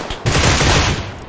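Loud, sustained burst of automatic gunfire in the PUBG Lite battle royale game, rapid shots running together for about a second after a brief lead-in, up close with no talking.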